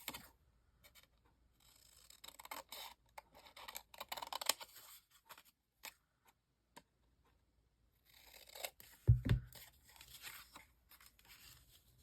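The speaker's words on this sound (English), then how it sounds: "I'm going to take and cut this off because we don't need this." Scissors snipping through paper during a craft project, with scattered short cuts and scratchy rustles at close range, a louder clunk of handling near the end, and no talk.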